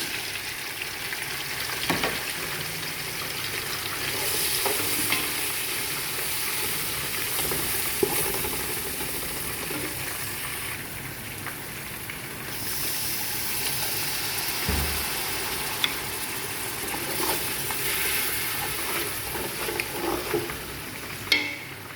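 Chicken frying in a pan with a soft, continuous sizzle, occasional stirring clinks and knocks, and a low background hum, fairly close and fairly quiet.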